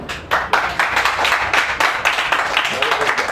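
Comedy club audience applauding in a steady wash of clapping that fills the whole moment, with crowd chatter mixed in.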